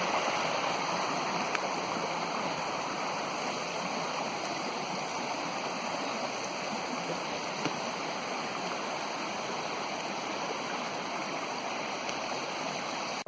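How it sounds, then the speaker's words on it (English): A mountain stream flows continuously near the North Inlet of Thunder Lake, all its water gathered into one channel, giving a loud, steady rushing and gurgling close by with no voices. "all the water seems to be captivated into this one stream now."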